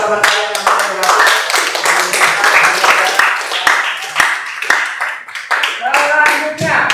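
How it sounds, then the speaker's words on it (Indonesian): Classmates in a classroom clap their hands together in quick, uneven bursts. The clapping is close and fairly loud, with voices mixed in. "Sekali lagi tepuk tangan buat teman-teman yang sudah bergabung."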